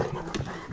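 Dogs pant and whimper excitedly while being greeted, a short close burst of breathy huffs and a high whine with a faint clatter underneath.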